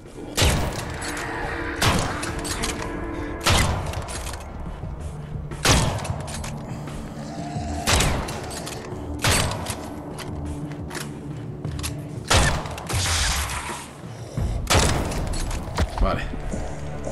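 Loud gunfire bursts in Dead Island 2 on PS5, including shotgun blasts, sharp booming shots recurring every couple of seconds over a dense, noisy game soundscape, close and forceful.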